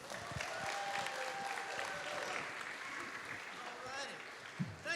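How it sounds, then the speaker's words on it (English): A comedy club audience claps in sustained applause, a dense patter of hands at moderate distance with a few voices and cheers mixed in, tapering slightly toward the end. "one more round of applause for Scott, everybody"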